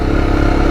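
Off-road motorcycle engine running steadily while riding a rough dirt mountain road, a dense low rumble with some clatter, close and continuous throughout.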